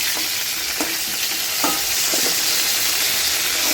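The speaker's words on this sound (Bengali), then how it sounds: "5-7 মিনিট ধরে ঢাকা চাপা দিয়ে পটলটা খুব ভালো মতো করে ভেজে নিচ্ছি।" Pointed gourd fries in oil in a covered pan, a continuous bright sizzle with a few light stirring knocks scattered through it, no voices.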